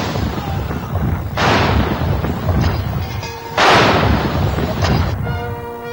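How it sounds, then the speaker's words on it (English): Artillery of the Honourable Artillery Company firing a 41-gun salute from the wharf of the Tower of London, two heavy booming blasts a couple of seconds apart rolling over a rumbling outdoor background. "From the wharf of the Tower of London, the Honourable Artillery Company is firing a 41-gun salute."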